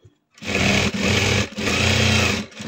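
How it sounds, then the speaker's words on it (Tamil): A sewing machine stitches a blouse in two loud, close bursts of rapid, buzzing mechanical whirring, separated by a brief pause, with no talking. "பொறுமையாக தையல் போடுங்க, இல்லைன்னா தள்ளி வந்துடும்"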